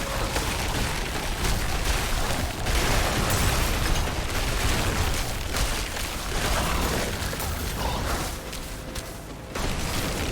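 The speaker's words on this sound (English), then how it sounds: "almost got killed by that stupid explosion after death, again" Explosions and combat in Diablo 4, Sorcerer gameplay: a dense, continuous roaring wall of blasts and booms with rumbling low end, loud and sustained throughout with only brief dips.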